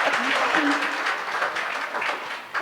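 An audience claps warmly at the book launch of 'Tryst with Koki', a dense, steady round of applause filling the room for the whole stretch.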